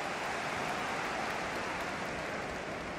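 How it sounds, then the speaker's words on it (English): Rain pours down on the pitch during a Watford versus Newcastle match in a football video game, a dense, even hiss that holds steady throughout with no voices over it. "now that this rain is coming down"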